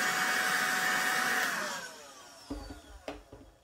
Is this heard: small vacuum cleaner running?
yes